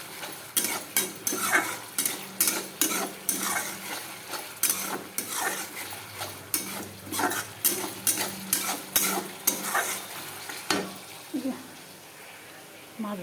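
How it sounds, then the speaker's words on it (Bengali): Fish frying in oil in a home kitchen, a steady sizzle under repeated rhythmic scraping strokes of a utensil against the pan, close and even, with some faint voices in the background. "মাছ ভাজা"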